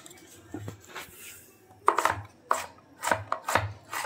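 Carrots being chopped with a knife on a board while cooking chicken vegetable chow mein, a series of sharp close thuds in an uneven rhythm, about seven cuts over a few seconds.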